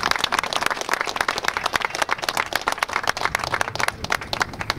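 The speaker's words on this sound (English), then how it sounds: "Let's give a round of applause for that." A crowd applauds at a ribbon-cutting celebration for an organization's fourth birthday, a steady, lively burst of many hands clapping close and loud, with no talk over it.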